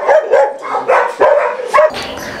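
A Belgian Malinois cross dog barks repeatedly at close range, loud sharp barks in an uneven rhythm, some with a whiny, yelping edge, and no talk over them.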